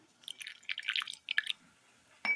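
A small amount of hot water is poured into a small bowl holding a spoonful of cornflour, giving a brief close trickling splash in soft bursts, then a short louder splash at the end.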